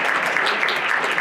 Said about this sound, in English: Clap your hands for Herb Ford again, everybody.